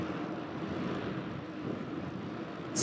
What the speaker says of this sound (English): There's a spray plane.